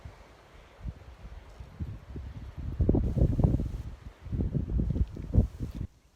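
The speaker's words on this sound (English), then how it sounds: "It's a little windy up here." Wind gusts high in the Laguna Mountains buffet the microphone in irregular low rumbling surges that swell and ease over a few seconds, with no talk.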